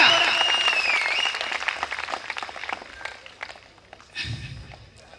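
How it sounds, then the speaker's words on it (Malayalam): An audience at a temple stage programme claps in a burst of scattered, fairly close applause that thins out over a few seconds, with a voice speaking over the start and a thump near the end. "പോരാ, കൈയടി പോരാ"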